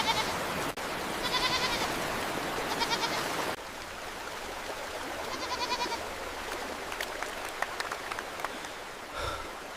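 Goats being led out of floodwater bleat in a few short, wavering bursts over a steady rushing wash of noise, with no voices.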